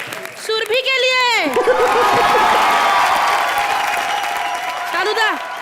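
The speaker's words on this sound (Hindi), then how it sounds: "अरे वाह, जोरदार तालियां मुबीन और सुरभि के लिए।" A comedy show's studio audience claps and cheers loudly in a sustained burst, while a voice calls out over it at the start and again near the end.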